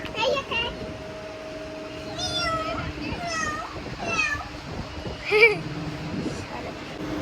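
A cat meows several times, rising and falling cries near the microphone, mixed with children's voices and chatter at the entrance of a shop.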